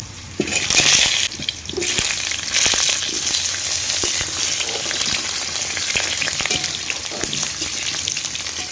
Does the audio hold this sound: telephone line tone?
no